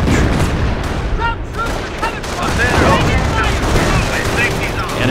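Gunfire on the Cherbourg battlefield in Company of Heroes, with rattling machine-gun bursts and heavier booming shots blending into a loud, sustained barrage, voices calling out over the fighting.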